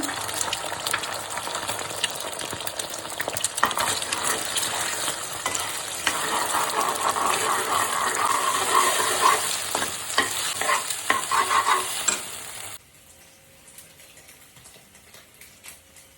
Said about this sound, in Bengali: তো আগে ডিমটা ভুজি করে নেব। ডিমটা এখন দিয়ে দেবো।